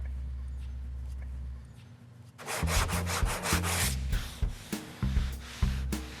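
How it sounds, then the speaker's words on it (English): Fresh 80-grit sandpaper scrubbing across body filler on a car panel in brisk, rhythmic back-and-forth strokes, starting after a quiet low hum. "we're gonna go to a fresh piece of 80 because we want the sandpaper to do the work, not muscle"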